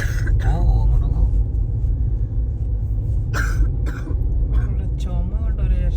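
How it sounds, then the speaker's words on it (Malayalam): A person coughs and clears their throat inside a car on winding mountain roads in Greece, harsh close bursts over a steady low engine rumble, with voices talking in between. "ചുമ കൊണ്ട് ഒരു രക്ഷയില്ലല്ലോ"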